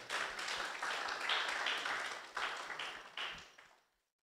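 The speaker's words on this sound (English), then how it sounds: "Please, another round of applause for her." Audience applause at a report launch and dialogue on catalytic capital investment in Ghana, a steady crowd of clapping hands with a few brief dips, then fading out to silence near the end.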